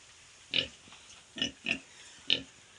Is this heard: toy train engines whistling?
no